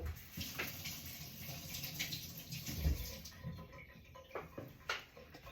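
Salted red fish rinsed under running tap water, a faint steady trickle with soft splashes and handling noises close by.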